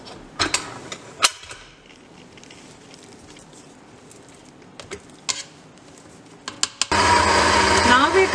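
An electric mixer combining Greek shortbread (kourabiedes) dough with ouzo starts up near the end, a loud, steady whirring that follows a stretch of faint bowl clatter and scraping.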